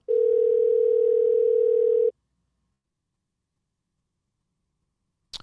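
A telephone tone rings steadily for about two seconds while a call to a child care center waits to be answered, then cuts to silence, followed by a brief faint click at the end.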